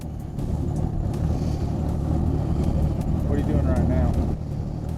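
A bass fishing boat's outboard motor idles on a Texas lake during a team tournament at Ray Roberts, a steady low rumble running throughout with a person speaking over it near the end.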